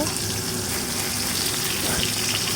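Tilapia fish frying in hot oil in a pan, a dense, steady sizzle and crackle holding at an even loudness throughout, close up with no talk.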